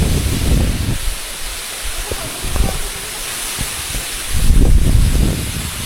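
Waterfall at Keonjhar during the monsoon, a broad rushing hiss of falling water heard close to the microphone, swelling and fading as the spray and wind gust across it.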